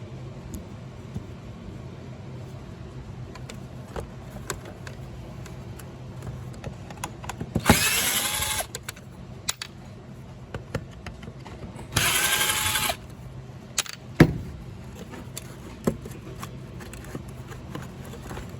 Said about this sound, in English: pull the 2 screws out that are holding the motor in place